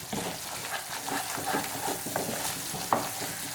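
Garlic chutney simmering in a pan while being stirred, a continuous soft sizzle with occasional scraping and light clinks of a spoon.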